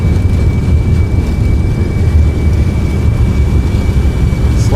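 Thrust reversers on a Leonardo MD-82 Maddog roaring after touchdown in Microsoft Flight Simulator, a steady, loud broadband engine rush with a faint constant whine running through it.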